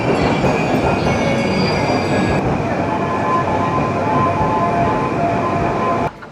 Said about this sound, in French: Enfin sorti du dernier métro,